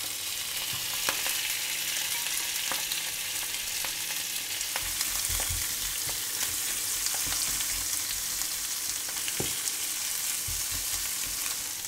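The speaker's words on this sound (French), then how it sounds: "Dans une poêle bien chaude, on va mettre un filet d'huile d'olive et on va faire cuire les crevettes" Shrimp fry in olive oil in a hot pan, a steady bright hiss of sizzling fat with scattered pops and crackles, close and continuous, with no voices.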